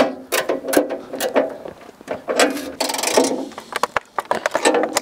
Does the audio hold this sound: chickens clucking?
no